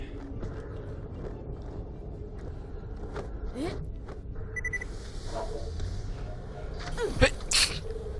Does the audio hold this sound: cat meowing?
no